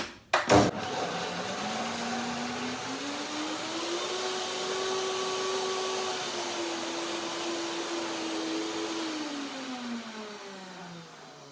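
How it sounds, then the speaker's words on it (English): A blender blending pea soup whirs steadily and loudly after a clunk at the start, its motor pitch rising, holding, then dropping as it winds down. "So blender it is."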